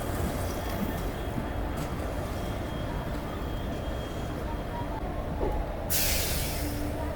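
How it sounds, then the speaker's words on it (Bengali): Passenger train rolling into Khurda Road Junction railway station, a steady loud rumble and rushing noise heard from on board, continuous with a brief brighter hiss near the end. "বন্ধুরা এই মুহূর্তে আমার ট্রেন ঢুকছে খুরদাওয়ার জংশন রেলওয়ে স্টেশন"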